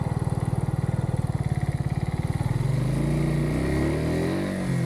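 A fuel-injected motorcycle engine pulses with a fast, even throb while riding, then its note rises and smooths as the bike accelerates, loud and close with wind rush behind it and no speech.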